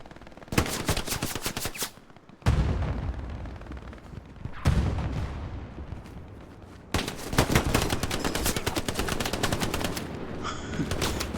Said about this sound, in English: Za manages to get him hip firing with the MP40.